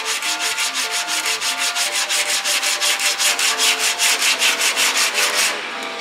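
Light sanding by hand on the fender molding of a 1956 Cadillac, a steady run of rhythmic back-and-forth rasping strokes, close and fairly loud, with no talk, easing off right at the end.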